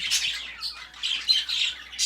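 Harsh, high-pitched bird squawks repeat in quick bursts, fairly close and loud, with no talking.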